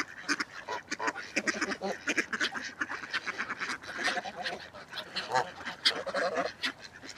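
Geese honk and ducks quack in a busy, overlapping chorus at a lodge pond, steady and moderately distant, with calls tumbling over one another throughout.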